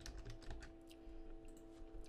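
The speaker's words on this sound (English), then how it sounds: "I'm going to press P on my keyboard" Rapid, steady typing on a computer keyboard, a dense run of close, crisp key clicks continuing throughout over a low steady hum, with no talking.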